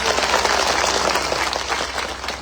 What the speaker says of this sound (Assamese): হাত তালি বজাবৰ কাৰণে অনুৰোধ কৰিছোঁ।